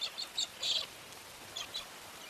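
Cockatiels call in short, high chirping bursts, several quick notes clustered early and a few more later, fairly faint over a soft background hiss.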